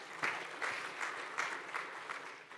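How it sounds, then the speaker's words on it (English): Audience applause at a blockchain conference session, a steady patter of many hands clapping for about two seconds with small swells, moderately loud and without talk. "Go on, round of applause,"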